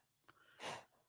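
A single sneeze bursts out across a quiet room, loud and broad for a fraction of a second after a faint short intake of breath.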